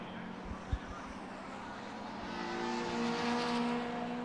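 Touring race cars from the Pre '93 and Pre '03 classes, including an XJS, lap Brands Hatch with a steady engine drone that swells toward the end, under a commentator's voice.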